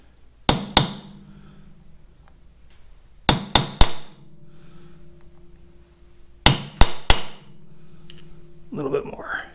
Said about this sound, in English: So now we restake the nut.